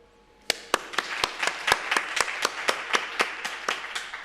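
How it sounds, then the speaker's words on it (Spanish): Slow, evenly spaced hand claps from a small audience greet a doctor introduced as the next speaker at a SciPyLA scientific conference, each clap a sharp distinct crack in a steady rhythm over a quiet room. "un fuerte aplauso para el doctor Marcos Baira"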